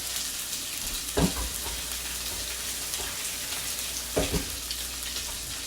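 Spam and onions fry in a pan with a soft, steady sizzle, broken twice by brief utensil clatters, close and without talk.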